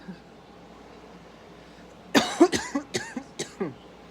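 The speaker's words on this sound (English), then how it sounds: "Sorry for the cough" A person coughs in a quick burst of about six or seven coughs, close and fairly loud, after a quiet stretch with no talking.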